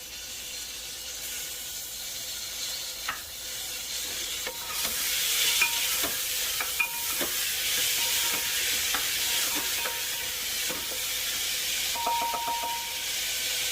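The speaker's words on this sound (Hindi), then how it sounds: "एक बार प्याज हो जाएंगे, अब मैं इसमें डाल दूंगी टमाटर।" Tomatoes go into onions frying in a pan, giving a steady sizzling hiss with a spoon scraping and clinking against the pan in irregular strokes, close and fairly loud, with no talking.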